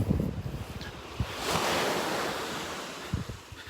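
Ocean surf breaks and washes ashore on the beach at Delnor-Wiggins, close and full, with gusts of wind buffeting the microphone. No voices are heard.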